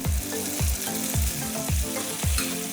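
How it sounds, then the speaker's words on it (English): Cooked spaghetti sizzles in garlic butter sauce in a pan over medium-high heat, stirred in a steady rhythm of about five scraping, frying bursts, close and loud with no talking. "Once it starts boiling, add the cooked spaghetti directly into the pan."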